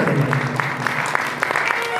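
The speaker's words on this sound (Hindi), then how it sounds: "पर जोरदार तालियों से।" Audience clapping to welcome guests at a Bhagwat Katha religious discourse in Ashok Vihar, Delhi: a brief burst of steady, moderately loud applause with a voice running over it.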